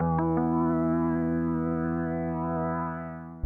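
A sustained, harmonically rich chord melody for a trap beat, played back from a DAW with a sharp onset and steady level, alone with no talk.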